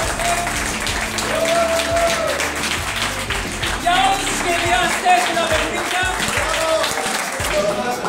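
Crowd applause for a shop, steady clapping throughout under someone speaking over it at a lively event.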